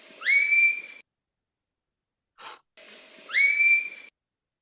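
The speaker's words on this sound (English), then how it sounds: "I let you listen to a whistle" Two matching animal whistle calls, each a clear rising tonal sweep with harmonics lasting under a second, separated by a pause of silence and a brief faint noise, recorded close and clean.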